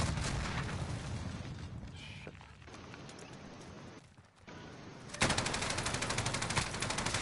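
Gunfire crackles through a multiplayer shooter match on Plunder: dense, loud bursts for several seconds, a brief lull, then a rapid, steady stream of automatic fire close by.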